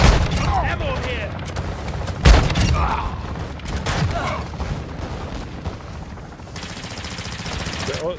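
Call of Duty DMZ gunfire, with rapid automatic bursts and a sharp loud shot mixed with game radio chatter and players talking.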